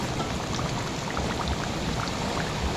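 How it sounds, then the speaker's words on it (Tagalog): Heavy rain pours down steadily and loudly, a dense, unbroken hiss of drops drumming on surfaces with no voices over it. "Grabe guys, napakalakas po talaga ng ulan."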